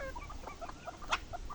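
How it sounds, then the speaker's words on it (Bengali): Chickens cluck at a farm in the Maldives, a steady run of short clucks and calls from several birds, fairly close and soft, with one sharper squawk partway through. "হাঁস মুরগি সব সাদা সাদা"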